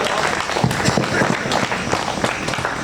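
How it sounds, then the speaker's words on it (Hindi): An audience at an outdoor poetry gathering claps in a dense, steady patter that runs throughout, fairly loud and close, with a murmur of crowd noise underneath. "ऊपर हाथ उठा के आशीर्वाद ताली का दे दो।"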